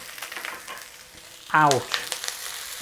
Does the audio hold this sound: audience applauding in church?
no